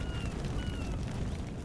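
A grenade goes off in the video game Xenonauts 2, heard as a dense, sustained low rumble that holds steady for under two seconds with a faint tonal whine above it.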